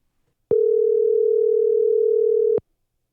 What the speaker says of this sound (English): let's dial up Tim Gilbert out of